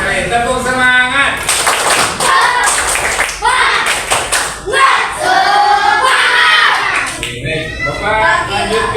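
Sixth-grade primary school children at SDN Padurenan perform the tepuk semangat spirit clap chant in a classroom, with rhythmic group clapping and loud shouted chanting voices filling the whole stretch, briefly pausing midway.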